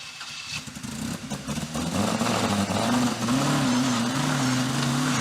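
A historic rally car on a gravel stage of the RC Somerset Historic Stages Rally, its engine catching and revving up loudly after a stall, climbing to a sustained close roar.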